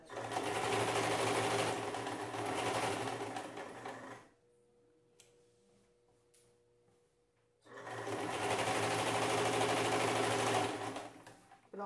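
A sewing machine runs in two steady, rapid bursts while stitching a Christmas-themed dish towel border, the motor whirring at close range with a quiet pause between runs.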